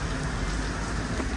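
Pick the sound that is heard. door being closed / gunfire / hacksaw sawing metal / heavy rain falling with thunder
heavy rain falling with thunder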